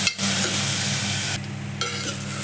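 Onions frying in oil for a peppered mutton soup, a steady close sizzle with stirring scrapes throughout, no voices.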